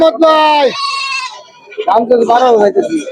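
A goat at a rainy-day livestock market gives two loud, close, wavering bleats separated by a brief pause.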